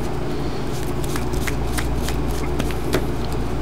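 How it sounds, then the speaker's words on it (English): Someone Hindu-shuffles a Yu-Gi-Oh! card deck by hand, making a run of quick, close papery snaps and riffles over a steady low background hum. "it becomes really hard to do in a regular Hindu shuffle like this"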